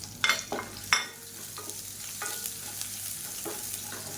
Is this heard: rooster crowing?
no